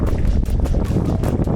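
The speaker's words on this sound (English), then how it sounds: "Yeah, it's super windy" Strong wind roars against the microphone out on the water during a bass fishing trip by kayak, a loud continuous rumbling buffet with no talk.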